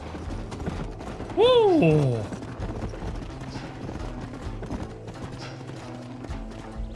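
Horse galloping in the video game Red Dead Redemption, rhythmic clip-clop hooves under game sound, with a sharp whinny and a player shouting excitedly over it.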